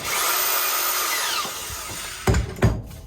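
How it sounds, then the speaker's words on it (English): A power drill bores holes in a Holy club, a close, loud whine that runs steadily then winds down, followed by two short bursts of the drill biting into the material. "since we're drilling holes in it, why stop at the 2?"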